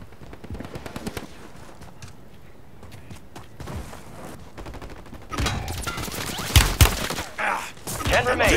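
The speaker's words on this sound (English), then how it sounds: "Taking fire!" Game gunfire from Call of Duty: Warzone on Ashika Island: scattered shots under voiced callouts early on, then a denser, louder burst of rapid fire and heavy impacts in the last few seconds.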